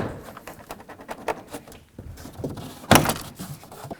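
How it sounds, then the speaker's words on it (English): Plastic clips creak and snap as the door panel is pried loose from a 1994-2004 Chevy S-10, with scattered clicks and one sharp loud pop near the end. "you can carefully pry it away from the door"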